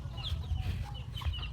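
Several farm chickens cluck softly around four in the afternoon while waiting to be fed, with brief higher calls over a low, steady rumble of background noise.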